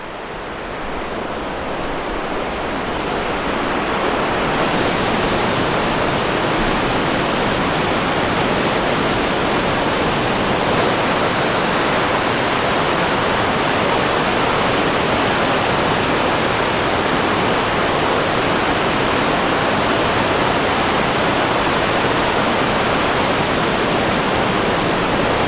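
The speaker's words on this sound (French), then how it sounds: "Là, c'est des vrais rapides, c'est incroyable." Powerful river rapids roar on an isolated road between Matagami and Radisson, a loud, steady broadband rush of churning whitewater that swells in at the start and then holds constant, with no voices.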